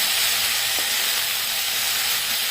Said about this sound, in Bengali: এই ধনেপাতাগুলো আমি ভেজে নেব